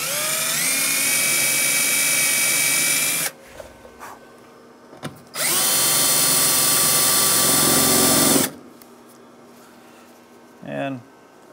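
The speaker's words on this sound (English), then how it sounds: "Drill an 1/8 inch hole." A power drill bores a 1/8 inch hole through the outer cab corner panel of a 2001-2006 Chevrolet Silverado 2500 truck. Two loud, sustained whining bursts, each about three seconds long, are separated by quieter shop noise.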